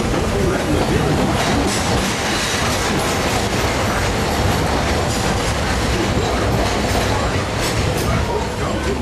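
The Magic Kingdom railroad train rolls steadily along its tracks with a dense, continuous rumble and clatter, loud and close throughout.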